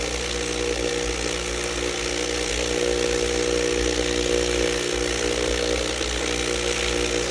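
MT-10 Mini Sonic vibratory rock tumbler with a 10-pound barrel, running with 500 grit silicon carbide, gives a steady, loud, continuous buzzing hum with a low mechanical drone that holds level throughout.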